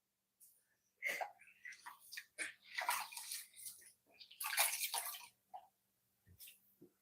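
Water being sponged or scooped out of a pottery wheel splash pan, with bursts of wet sloshing, dripping and squelching separated by short quiet gaps, close and fairly soft.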